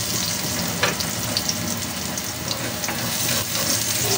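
Garlic fries in a pan with a steady, close sizzle and crackle, joined by faint clinks and brief watery splashes of stirring.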